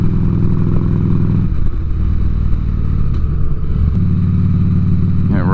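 A 2006 Ultra Classic motorcycle engine runs at about 2,000 RPM, a loud, close, steady throbbing drone with a brief shift in pitch partway and a small rise near the end.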